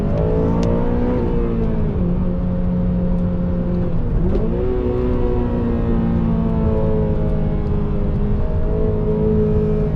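Honda Civic Type R FN2 engine revving high during a spirited drive, a loud sustained wail rising and falling with a brief dip around a gear change, heard alone.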